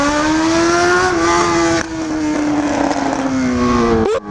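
A Honda Hornet motorcycle with a straight exhaust pipe revs loudly and up close with a raw, droning engine note, holds high, dips slightly, then drops off abruptly at the end.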